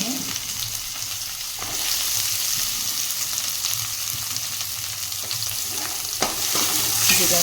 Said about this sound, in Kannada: ಇದೊಂದು ಸ್ವಲ್ಪ ಚೆನ್ನಾಗಿ ಬೆನಿಲಿ, ಚೆನ್ನಾಗಿ ಫ್ರೈ ಆಗಲಿ ಎಲ್ಲದು